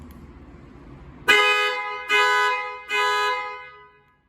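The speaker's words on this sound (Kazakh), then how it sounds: "Мына қызыл кілт, яғни бет басып тұрсаң, сигнал айқайлайды." A Toyota Camry's alarm, set off by the key fob's red panic button, blares its horn in three loud, evenly spaced blasts after a quieter rumble, then stops.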